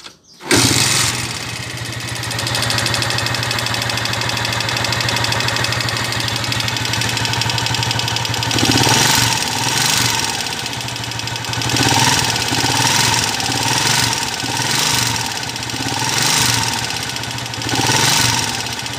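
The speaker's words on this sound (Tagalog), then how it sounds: "So halo-halo na yung ingay ng makina niya." A Honda TMX 155 motorcycle with a sidecar, its engine due for an overhaul because of excessive noise, starts up and settles into a loud, rough idle, with a steady hum broken by periodic knocking and rattling pulses.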